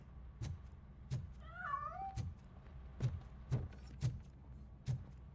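In the video game Robocop: Rogue City, a single drawn-out cat meow rises and falls, fairly faint, amid a series of regular soft thumping footsteps.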